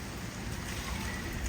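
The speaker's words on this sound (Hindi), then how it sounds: "अज़ान बारिश में नहा रहा है" Rain falls outdoors near a home, a steady, dense hiss of drops on surfaces with no break, fairly close and even in level, with no voices.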